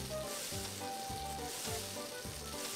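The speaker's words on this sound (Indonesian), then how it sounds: "Kita tumis sekarang ya bawangnya." Onions sauté in the Cooking Mama video game, giving a soft, steady sizzle with a few regular stirring strokes at low volume and no talking.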